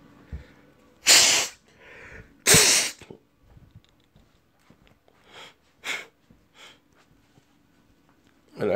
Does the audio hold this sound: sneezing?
yes